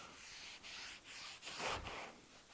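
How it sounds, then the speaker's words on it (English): A cloth wipes excess Annie Sloan chalk paint wax off a wooden board, faint soft rubbing strokes, several short swipes with one firmer pass near the end. "I'm just going to turn this over and just wipe off a little bit of the excess"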